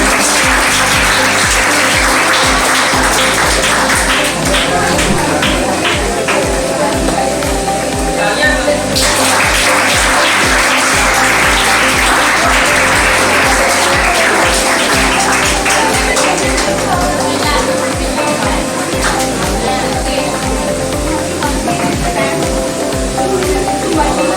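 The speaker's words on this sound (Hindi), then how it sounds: "ठीक है, खैर एक लिए जोरदार तालियां।" Loud, dense applause from an audience at a student topper award ceremony held by a coaching academy, sustained for about twenty-four seconds with voices mixed in beneath the clapping.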